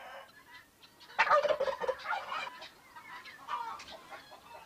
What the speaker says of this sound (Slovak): Moriak svoj impozantný zjav i hlasový prejav nezaprie.